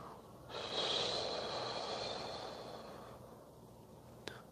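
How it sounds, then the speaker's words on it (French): A slow, steady breath exhaled during a relaxation breathing exercise, a soft airy hiss that swells and then fades over about three seconds, close and quiet, followed by a small click. "Retenez votre souffle quelques secondes. On vient contracter les abdos, les diaphragmes légèrement. Et on expire tout doucement."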